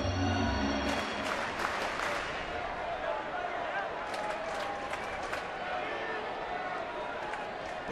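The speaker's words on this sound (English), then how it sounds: "Base hit here lights this crowd up big time." A baseball stadium crowd at a Giants versus Dodgers game roars steadily in cheering and applause after a base hit, a dense, sustained wash of voices and clapping that stays loud throughout.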